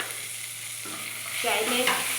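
Chopped tomato and green chili dropped into a hot pan for a vegetarian chira pulao, a quiet low sizzle that swells into louder frying and stirring midway through.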